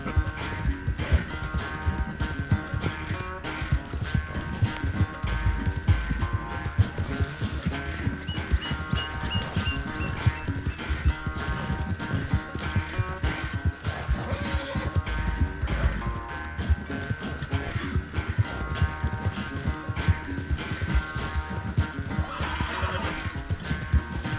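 Horse hooves clip-clop steadily through a long gallop in the open-world western game Red Dead Redemption 2, with snorts and whinnies over a dense bed of game music and ambience, no talking.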